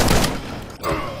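Gunfire and explosions from the shooter game The Club form a loud, dense burst of blasts and meaty thumps, with a brief dip before another heavy boom.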